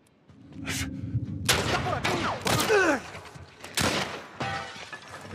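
Several sharp gunfire bursts in The Last of Us, loud and close, with short gaps between shots and some background noise.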